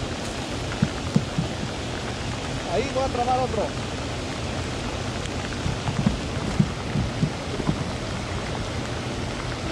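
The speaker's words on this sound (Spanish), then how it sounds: "Pero esta lluvia está de miedo." Heavy rain pours steadily and loudly on a surface during bass fishing, a dense continuous wash with a few sharp taps, while someone speaks Spanish over it.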